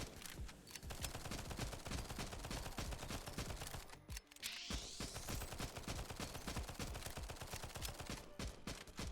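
Pistol fire in the video game NIMRODS: GunCraft Survivor comes as a dense, rapid stream of sharp shots throughout, with a brief dip and a rising tone near the middle, loud and without talk.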